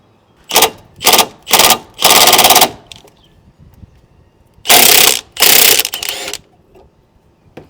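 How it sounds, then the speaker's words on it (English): A ratchet wrench loosens a 14 mm bolt on a right-hand-drive Toyota Corolla during a coilover install. Several short, close clicking bursts come first, then a pause and a few more bursts, with no talking. "to start off, I'm gonna remove this bolt. This is a 14."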